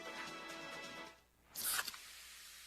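Pepsi Zero Sugar cola can cracked open, a sharp hiss and fizz burst following a brief quiet gap after a steady background bed.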